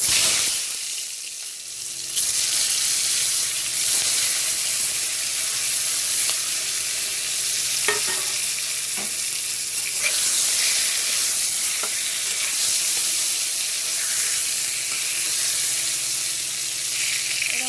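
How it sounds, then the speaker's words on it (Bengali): Eggplant slices rubbed with salt and turmeric hit hot oil in a wok and break into a loud, continuous sizzle that holds steady, with occasional crackles and stirring scrapes. "এই যে বেগুন ভাজাটা করব নুন হলুদ মাখিয়ে রেখেছি এবার তেলে দিয়ে দিচ্ছি"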